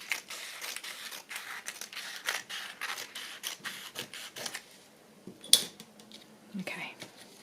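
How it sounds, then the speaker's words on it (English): Scissors trimming a faux leather notebook cover at close range, a run of short, crisp snips in quick rhythm that pause briefly before a few more scattered cuts, with a soft voice murmuring. "I'm just going to trim it down a little bit."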